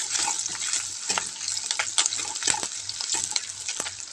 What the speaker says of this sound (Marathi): नंतर चिरून घेतलेला कांदा टाकलाय। कांदा छान आपल्याला असं तळून घ्यायचा आहे